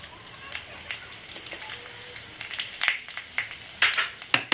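Panch phoron and a bay leaf sizzle in about two spoonfuls of hot oil in a kadai, a steady soft crackle with sharper pops growing more frequent toward the end, alone and close.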